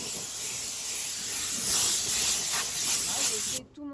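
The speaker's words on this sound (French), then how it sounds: "Je vais donc vaporiser la partie tableau de bord et puis même écran tactile" A dry steam cleaner sprays a car dashboard and touchscreen from a distance, giving a steady, loud hiss that swells and varies for several seconds before cutting off near the end.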